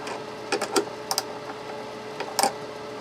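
A 10 mm wrench snugging the tuner bushings on a Martin Special D acoustic guitar, heard as a few quiet, close metallic clicks and scrapes spread over a few seconds.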